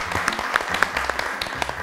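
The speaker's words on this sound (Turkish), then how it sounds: "Bir alkış gönderiyoruz mucitlere de" A studio audience applauds the inventors team after they complete a puzzle on a Turkish game show, a short burst of scattered claps with some voices mixed in.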